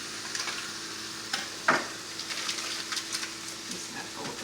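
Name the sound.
kale and spinach sizzling with butter in a pan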